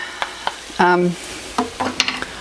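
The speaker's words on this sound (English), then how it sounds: "Now, give your veggies a stir and the meat a stir again." Vegetables and meat are tossed in a hot pan for spicy rice, producing a run of separate scrapes and clatters over a light sizzle close by.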